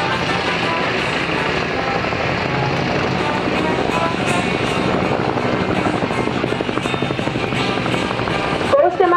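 Military helicopters of the 2nd Flight Squadron pass over at a ground forces anniversary parade, a loud, continuous rotor thrum and engine whine that dominates throughout, with a brief sharper sound at the very end.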